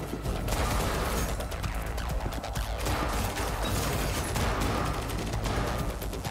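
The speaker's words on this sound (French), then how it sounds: "Bon ça tire mais je sais pas d'où hein" Sustained gunfire in Cyberpunk 2077 on PS5, dense rapid bursts of shots with crashes and mechanical clatter, loud and continuous throughout, no talk over it.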